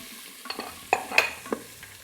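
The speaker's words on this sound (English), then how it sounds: "Saute these for a little bit." Carrots, celery stalks, onion and minced garlic sauté in a pot, with a soft steady sizzle under intermittent scraping stirs from a utensil, close and moderately quiet.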